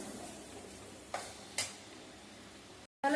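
Chopped tomato sautéing in a pan with masala for egg fried rice, a low steady sizzle with a couple of soft stirring scrapes, ending in a short silence.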